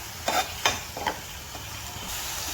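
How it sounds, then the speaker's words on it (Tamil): Brief scraping and stirring strokes in a pan of sauce for Kerala-style fish pollichathu, three or four quick bursts over a steady faint sizzle of simmering liquid. "ஊற்றிட்டு கொஞ்சம் நல்லாவே கிண்டி விட்டுட்டு கொதிக்க வைக்கலாம்"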